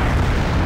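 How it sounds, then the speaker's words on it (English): Artillery explosions in the video game Wargame: AirLand Battle make a continuous dense low boom and rumble, loud and close throughout a very short stretch. "Ah, ah, the sweet explosions."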